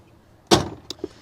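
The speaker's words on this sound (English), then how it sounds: "I'll shut the door a bit." A rear door on a 2023 Honda Pioneer 1000-5 Trail Edition UTV swings shut close by with one solid thump, followed by two small latch clicks and rattles, alone in a quiet setting.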